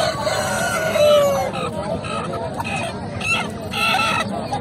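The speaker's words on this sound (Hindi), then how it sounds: "ये यहाँ पे देसी मुर्गियाँ और मुर्गे भी मिलते हैं" Desi chickens cluck and a rooster crows amid a busy outdoor crowd at an Eid animal market with goats, with voices murmuring in the background.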